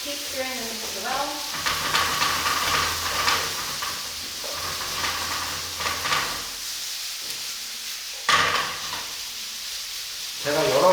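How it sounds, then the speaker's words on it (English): Jeyuk pork mix stirred in a frying pan at a cooking class, a steady sizzle with scraping and stirring strokes throughout, a few louder clatters, and faint talk now and then. "And keep stirring the mix well."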